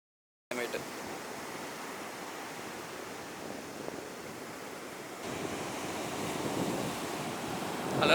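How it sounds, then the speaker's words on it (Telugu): Strong ocean waves surging on a beach after heavy rain, a steady broadband roar of surf and wind that grows louder toward the end as a bigger wave rushes in. "అలలు చాలా స్ట్రాంగ్ వస్తున్నాయి."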